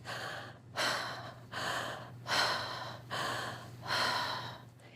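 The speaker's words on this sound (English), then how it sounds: "this is the type of breathing I use with my clients during a one-on-one session" Circular conscious breathwork demonstrated up close: five forceful, rhythmic inhale-exhale cycles, each a loud breathy rush roughly a second long separated by short pauses, over a faint steady hum.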